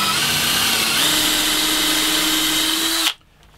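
Power drill boring a hole through a workpiece held in a homemade doweling jig, a loud, steady whine that rises slightly in pitch partway through, then cuts off abruptly near the end, leaving near silence.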